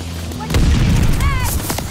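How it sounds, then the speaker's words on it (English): Friendly mortar shells and a bombing run in a war video game, heavy booming blasts and rumbling impacts that start suddenly and roll on, with a voice talking over them and a whistling sweep. "Friendly mortar fire coming."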